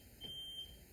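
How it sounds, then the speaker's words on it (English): A home smoke alarm gives a single faint, high beep in a quiet room, with no talking over it. "the fucking smoke alarm"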